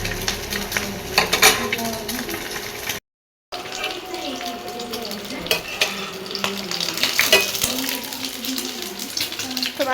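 Chopped onion sizzling and crackling in a hot frying pan while it is stirred, with a loud, busy hiss that breaks off briefly and then resumes, and a voice talking faintly in the background.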